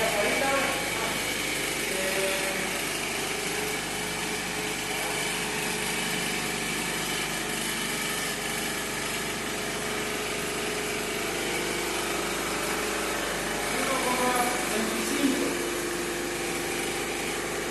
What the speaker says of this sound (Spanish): Motor de continua